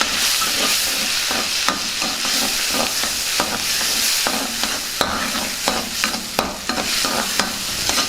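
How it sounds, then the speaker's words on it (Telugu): Onion and cashew paste sizzles and fries in butter in a pan, with steady spoon-stirring scrapes and clicks over a continuous hiss throughout. "ఇప్పుడు ఇందులో కొద్దిగా బటర్ వేసుకుందాం ముందుగా నూరు పెట్టుకున్న ఉల్లిపాయ జీడిపప్పు ముద్దని వేసుకుందాం బాగా కలుపుకుందాం"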